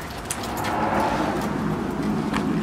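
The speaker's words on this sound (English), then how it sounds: "Oh, nope, it's a dump truck. It was a dump truck." A dump truck rumbles past outside an abandoned nursing home, a steady broad roar heard from indoors through an open door, with a few faint knocks over the drone and no talk.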